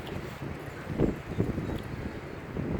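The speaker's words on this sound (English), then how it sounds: "our area is like so windy" Strong wind buffets the microphone outdoors on a very windy day, a steady low rumble with gusty swells and rustling, no voices.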